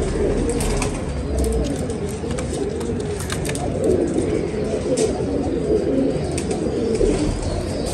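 Many pigeons coo together in a continuous low, throaty murmur, with occasional faint rustles and chirps nearby.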